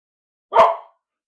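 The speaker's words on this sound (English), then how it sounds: "Sorry about my dog barking." A single short dog bark, close by and fairly loud, standing alone against silence.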